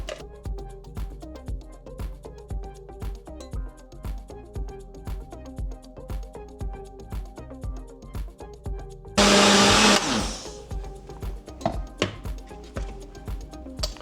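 A blender whirs loudly for under a second as it mixes fruit, protein powder and water, set against a steady rhythmic thumping beat that runs throughout.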